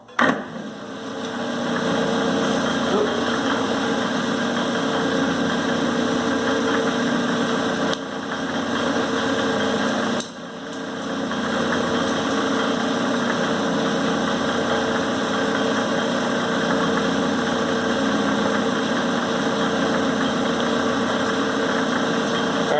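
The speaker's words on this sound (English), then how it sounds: "Let's turn on the lathe here, and let's give it a whirl." A Clausing variable-speed lathe running on three-phase power gives a steady, close mechanical drone with a constant hum, briefly dipping twice before settling back, with no talking.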